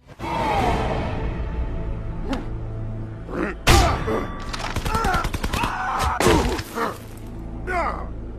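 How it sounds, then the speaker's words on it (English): Jax's Air Machine Gun finisher in Mortal Kombat: a string of sharp, rapid impacts and crackling bursts from about the midpoint onward, loud and close, over a layer of game effects and steady background music. "Moving on to number 16 is the Air Machine Gun"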